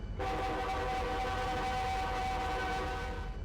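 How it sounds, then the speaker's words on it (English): Union Pacific locomotive horn from the Trainz Simulator 3 game sounds as one long, loud, steady chord with no pauses, with low engine rumble underneath. "That's a horn."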